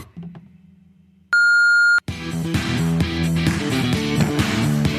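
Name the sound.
voicemail beep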